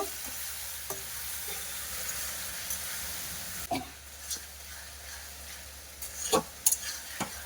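Vegetables with ground spice paste and a splash of water fry with a soft, steady hiss and gentle sizzle, while occasional stirring scrapes and clicks pick up toward the end; no one speaks.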